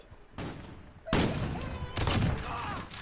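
Gunfire in Call of Duty: Modern Warfare comes as three loud bursts of shots, the later two heavier, against a noisy game background.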